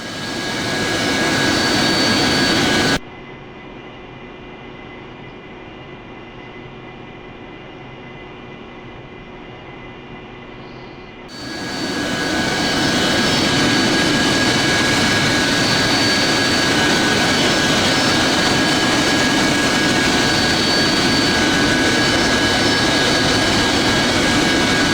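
AV-8B Harrier jet engine at taxi power, a loud, steady broadband roar with a high whine that cuts out abruptly for several seconds, then returns at full strength.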